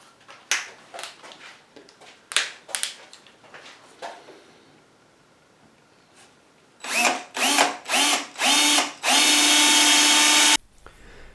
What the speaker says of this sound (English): break out a drill and get these tuner holes sorted out